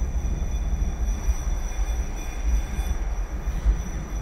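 While a Toyota SW4 rolls past parked cars, a faint continuous high squeal from its running gear echoes back over heavy low road rumble, with no speech.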